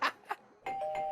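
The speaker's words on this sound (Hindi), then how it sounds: "बज गई घंटी।" Doorbell ringing indoors with two short chimes, then a sustained electronic ding-dong tone. It is fairly faint and has no talk.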